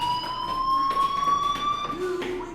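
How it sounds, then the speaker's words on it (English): A school fire alarm in the game Life is Strange rings as a continuous high electronic tone, holding steady and fairly loud for the whole stretch. "do you hear that fire alarm?"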